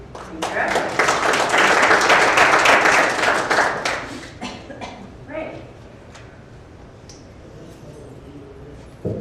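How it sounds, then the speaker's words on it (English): Applause and clapping from an audience at an all-candidates by-election forum in Kamloops, a dense burst for about four seconds that thins into scattered claps, with voices underneath. "First they're cheering next door, now they're dancing on the streets."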